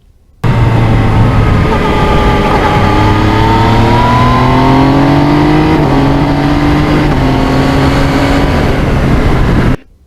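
A 2020 Yamaha MT-09 crossplane triple motorcycle engine under way, loud and close, its droning note rising through the gears with shifts and steady wind rush throughout, no one talking.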